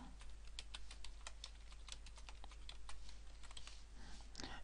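Steady, quick typing on a computer keyboard while C code is entered, with dense clicking keystrokes throughout and no voices, set against a constant low hum.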